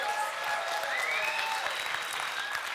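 Audience at a live debate clapping for a team, several seconds of steady dense applause filling the hall, with faint voices and whistle-like tones threading through.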